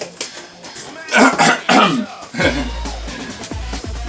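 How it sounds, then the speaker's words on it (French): Several harsh coughs and throat clearing in quick succession, close up, followed by lower rumbling background noise. "Je fais un peu exprès de tousser."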